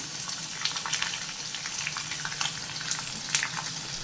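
Green chili and onion go into a pan with peanuts and fry with a steady, moderate crackling sizzle, light pops scattered throughout, close by and without voices.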